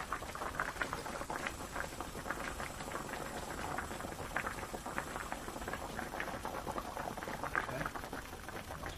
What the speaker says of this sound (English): we're bringing it up to a nice healthy simmer